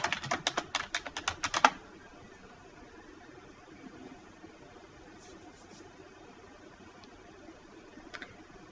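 Keys clatter in a quick burst of typing on a computer keyboard while a business letter is entered in Word, then the tapping stops and only faint room noise remains, with a couple of light taps near the end.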